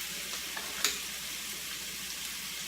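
Bacon sizzling steadily in a pan on a home stovetop, a constant close hiss of frying with a few faint pops and stirring taps, no voices.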